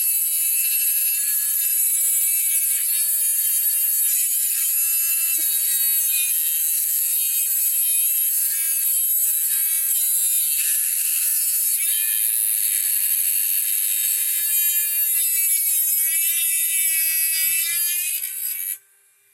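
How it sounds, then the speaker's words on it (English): A sparking cutting tool cuts down a steel T-nut for a Mizuno soccer boot build, giving a loud, steady, high-pitched grinding whine that runs unbroken for nearly twenty seconds before cutting off abruptly. "I've now cut down the T-nut."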